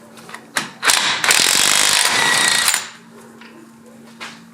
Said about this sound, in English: So we're going to go ahead and pull this axle nut off.